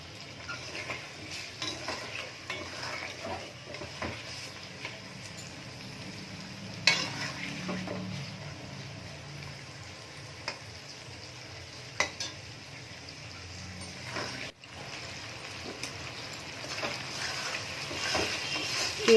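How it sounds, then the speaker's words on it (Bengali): Sliced onion with a little salt sizzles in a pan while being stirred for chili chicken, a steady soft frying hiss with scraping and clinks from the utensil against the pan, close by with no talking. "অল্প সামান্য কিছু নুন দিয়ে পেঁয়াজটা হালকা ভেজে নেব।"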